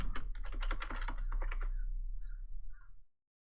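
Fast run of keystrokes on a computer keyboard as a new password is typed, a close, steady clatter for about three seconds before it stops abruptly.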